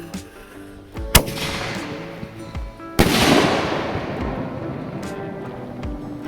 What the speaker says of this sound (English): Now let's go ahead and just plop our canister shell right into the mortar tube.